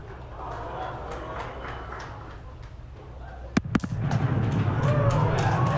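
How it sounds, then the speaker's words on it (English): Distant crowd noise and chatter at a SpaceX Falcon Heavy launch, then a pair of sharp booming thumps, sonic booms from the landing boosters, followed by swelling cheers and applause. "There we just heard sonic booms."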